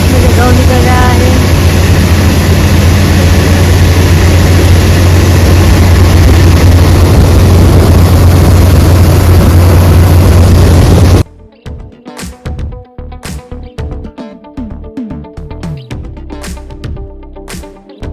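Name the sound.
combine harvester unloading wheat into tractor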